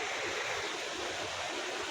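Water of Kempty Falls near Mussoorie in heavy rain, a steady broad rushing roar of flowing water, continuous and fairly distant, with no voices.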